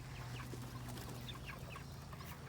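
Chickens cluck in short, scattered bursts over a steady low background hum, soft and a little distant.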